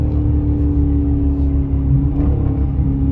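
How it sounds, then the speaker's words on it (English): A Dodge Charger widebody's engine rumbles loud and close with a deep, steady throb, the throttle lightly tapped so the note swells only slightly. "I tap the throttle a little bit, and it downshifted because it's ready to go again."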